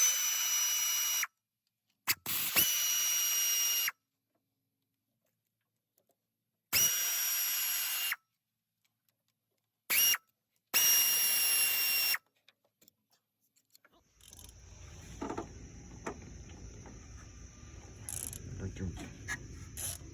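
Power tool, likely an impact wrench, breaking loose 15mm balancer bolts on a 24-valve Cummins engine, in several loud bursts of a few seconds each, separated by silences, followed by quieter workshop clatter.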